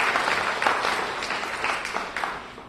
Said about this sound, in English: you can give a round of applause to that